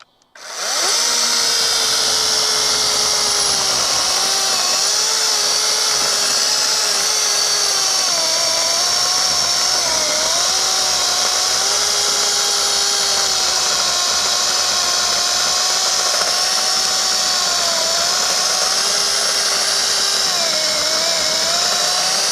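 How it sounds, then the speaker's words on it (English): A Ridgid 18V cordless chainsaw bucks a piece of firewood, starting abruptly and then whining loudly and steadily at close range, with slight dips in pitch as the chain bites into the wood. "let's buck a piece of firewood here"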